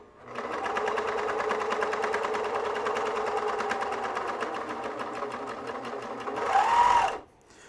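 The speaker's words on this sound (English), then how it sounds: "So just showing it serging some woven fabric here." A Bruxel Sienna 4-thread serger overlocker sews woven fabric with a steady, fast mechanical whir and rapid stitching clatter for about seven seconds, then speeds up briefly with a rising whine before stopping.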